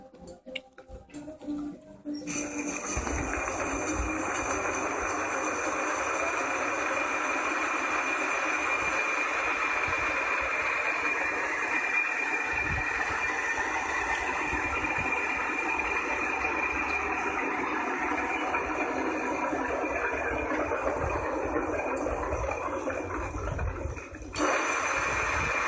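Electric bike hub motor spinning the wheel, with worn bearings suspected, running as a steady, fairly loud whir and hum that starts after a couple of seconds and holds for about twenty seconds before cutting off near the end.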